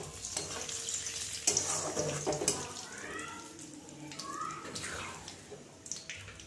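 Marinated chicken pieces dropped into a hot pan on a low flame sizzle and crackle softly at close range, with occasional stirring scrapes and clatter.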